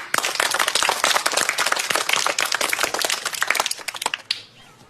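An audience breaks into dense, sustained applause welcoming a PT teacher, many hands clapping close by, then it tapers off abruptly near the end.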